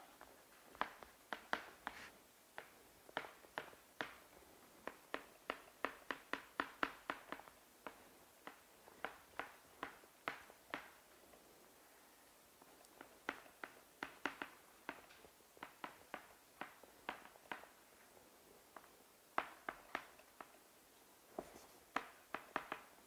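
Chalk or marker strokes on a lecture board as someone writes out a Hamiltonian equation during a physics talk, a long series of quick tapping and scratching strokes in bursts, moderately close with no voice.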